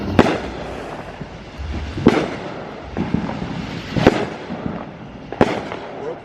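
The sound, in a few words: fireworks on 4th of July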